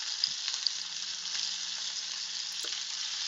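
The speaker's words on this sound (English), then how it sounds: "So looking for a nice sear." Meat sears in hot oil in a pan with a steady, close hiss and crackle, a few small pops breaking through the continuous sizzle.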